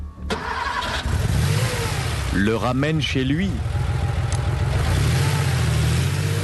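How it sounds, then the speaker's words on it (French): A car drives off in a hurry, chauffeur at the wheel, its engine droning low and steady throughout while someone speaks over it. "cette voiture que vous voyez partir en catastrophe"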